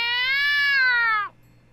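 A cat meows once in the video game Gakuen Heaven 2, a single long, clear, close call that holds steady and then drops off sharply, leaving near silence with a faint low hum.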